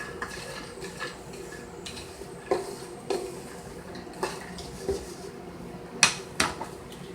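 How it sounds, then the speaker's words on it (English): Pecans tossed in a dry skillet, heard as scattered light clatters and metallic taps of nuts and utensil against the pan over a quiet kitchen background. "So I'm just toasting them in this dry skillet."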